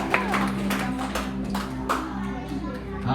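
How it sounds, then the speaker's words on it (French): A church congregation claps in sharp, irregular bursts during a morning service, the hand claps standing out over a low steady hum and background voices. "Est-ce qu'on peut applaudir le Seigneur ce matin?"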